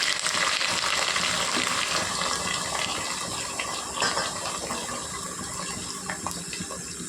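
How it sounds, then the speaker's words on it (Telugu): Potatoes, onions and green chillies frying in oil in a kadai, giving a steady close sizzle with faint crackles and occasional light scraping, without talk. "బంగాళదుంపలు ఉల్లిపాయలు పచ్చిమిర్చి మూడు అండి కోసించుకున్నానండి వేసుకుందాం"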